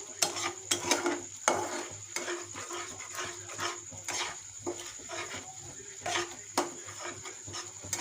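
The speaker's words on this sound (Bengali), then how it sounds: "তেজপাতা, শুকনো লঙ্কা আর পাঁচফোড়ন সম্বাস দিয়ে পেঁয়াজগুলা ছেড়ে দিয়েছি" Onions fried in a pan with bay leaf, dry chilli and panch phoron, a steady sizzle broken by repeated scraping stirs of a spoon against the pan, close and moderately loud.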